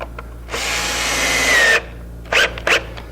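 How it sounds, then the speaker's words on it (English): A power drill drives screws into a wooden hanging cupboard: one sustained whirring run of over a second, then two short bursts, close and loud in a quiet workshop. "I'm going to finish getting the screws in"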